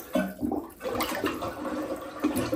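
A plunger works a clogged toilet with quick strokes, giving wet sloshing, gurgling and sucking bursts in an uneven rhythm, close by, with water splashing in the bowl.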